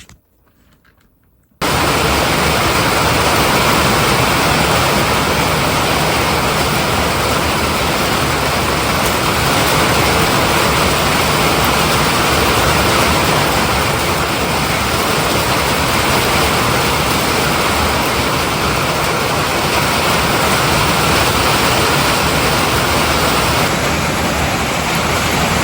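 Heavy rain pours down steadily at night in a ranch setting, a dense, continuous wash of loud hiss that starts abruptly after a brief quiet moment and keeps an unbroken roar for the rest of the time.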